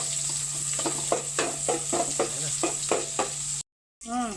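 Garlic and onion sauté in a wok, a steady sizzle broken by a regular series of scraping stirs, close and fairly loud, ending with a short silence and then a brief voice.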